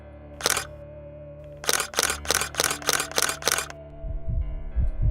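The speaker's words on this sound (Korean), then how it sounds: "나도 모르게 터져나온 셔터 소리가 정확히 10번 울렸을 때" A camera shutter in a horror radio drama clicks once, then seven more times in a quick even run. Deep, muffled heartbeat thumps follow over a low steady hum.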